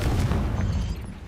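Confringo blasting spell detonating in Hogwarts Legacy, a loud, booming burst of low rumble that lingers briefly and tapers off, with no talk over it.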